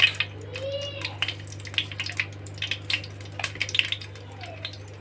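Mustard seeds splutter in hot oil for a Thengai Kara Kuzhambu coconut curry: irregular sharp pops and crackles burst one after another over a steady low hum.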